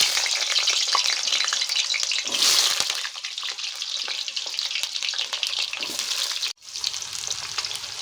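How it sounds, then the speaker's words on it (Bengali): Potato pieces fry in oil in a wok, a loud continuous sizzle with brief stirring scrapes and one short dip in the crackle, and no one speaking. "এবার প্রথমে আমরা আলুটাকে ভেজে নেব। তার জন্য আমরা কড়াইতে দিয়ে দেবো কিছুটা তেল।"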